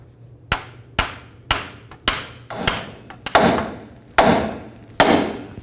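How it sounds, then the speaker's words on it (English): A hammer strikes a pickle fork wedged between the upper ball joint and steering knuckle of a 2000-06 GMC Yukon, about ten sharp metallic blows at a steady, slightly quickening rhythm, close and loud over a low background hum. "I'm going to use a pickle fork to break this free."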